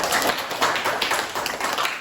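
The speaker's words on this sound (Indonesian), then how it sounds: "Beri tepuk tangan." Classroom of students clapping together for a group's presentation, a dense, steady patter of many hands lasting a couple of seconds without speech.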